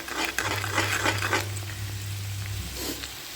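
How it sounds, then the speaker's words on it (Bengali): Two eggs are stirred into vegetables frying in a pan on raised heat, with a soft sizzle, spatula scrapes and light clinks. A low hum runs beneath for most of the clip. "এইভাবে ডিম দুটোকে এইভাবে নাড়িয়ে দেবে সমস্ত সবজির সাথে মিশিয়ে আবার একটু ভালো করে ভেজে নেবে"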